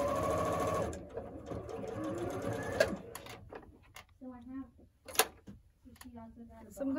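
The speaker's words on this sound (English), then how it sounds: "I'm going to go ahead and sew this other corner on before I press." Sewing machine stitching the corner of a quilt block: a steady close mechanical whir for about a second, followed by quieter intermittent thumps and handling noise, with a person speaking over the second half.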